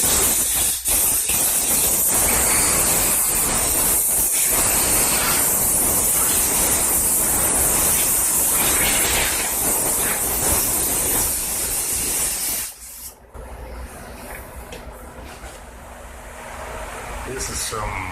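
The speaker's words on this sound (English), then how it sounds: "This is some Rust-Oleum painter's touch, just some average black spray paint." Rust-Oleum Painter's Touch black spray paint sprays in a continuous close, loud hiss onto parts of a 2018 Yard Machines 11A-02BT729 lawn mower, briefly pausing before a quieter, steadier hiss resumes.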